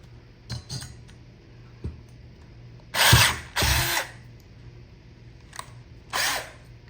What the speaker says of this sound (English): Just put a little pilot hole in there so that you can get the cutting edge of the drill bit in